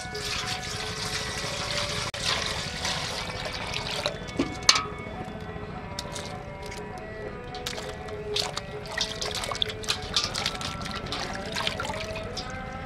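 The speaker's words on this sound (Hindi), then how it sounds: "तो सबसे पहले हम करेले को साफ पानी से धो लेंगे।" Freshly picked bitter gourds being rinsed in clean water on a rooftop, with a steady trickle and pour of water and occasional sharper splashes and clinks as the gourds are handled, close and clear throughout.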